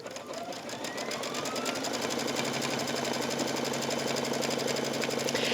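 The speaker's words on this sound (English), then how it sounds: "I press the start button, and it's going to stitch this piece on." A home sewing machine stitches the long edges of fabric pieces together for a couched pillow, its rapid, steady mechanical chatter running continuously and close, with no talk.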